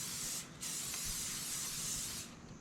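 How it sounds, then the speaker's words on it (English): Non-stick butter cooking spray hisses into a baking pan at a truck campsite before cornbread batter goes in: a steady, close aerosol hiss with a brief break, then a second longer burst. "non-stick butter cooking spray"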